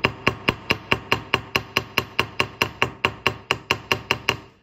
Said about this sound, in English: I don't put a lot of force, but I hammer with a few taps.